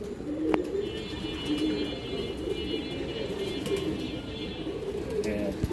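Pigeons at a pigeon farm coo in soft repeated low calls under ongoing nearby talk, with occasional sharp clicks and a faint high tone.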